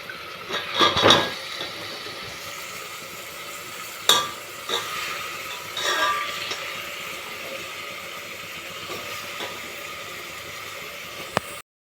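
Beans, carrot and potato stirred into sautéed tomato with green chillies in a pan for tomato rice: a few spoon scrapes and clinks against the pan over a faint, steady sizzle, with no talking.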